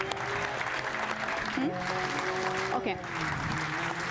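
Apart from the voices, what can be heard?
audience applause at a conference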